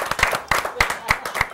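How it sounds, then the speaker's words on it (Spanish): A few people clapping at a gaita music TV broadcast, sparse individual claps landing in loose bursts about every third of a second, fairly close and dry. "un aplauso para él."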